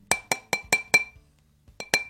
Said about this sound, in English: that was the sound of this bottle of red wine.